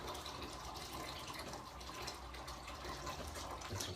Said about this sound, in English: Go ahead and rinse my hands off.